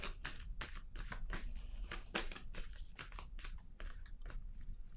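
Tarot cards being shuffled by hand, a dense run of crisp riffling flicks and slaps, close and steady, with no talking over it.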